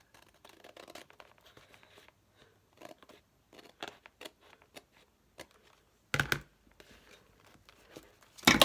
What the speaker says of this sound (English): And I have to cut it off.